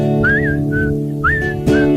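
A person whistles short, bright rising and falling chirps, imitating a canary's song, four quick phrases over soft background music.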